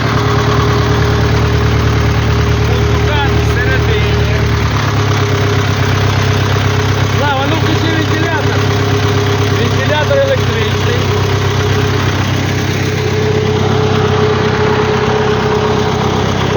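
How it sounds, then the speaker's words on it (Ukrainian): A Lviv forklift's heavy engine idles steadily and loudly up close, a low continuous rumble with a faint knocking vibration throughout. "Так, завели навантажувач."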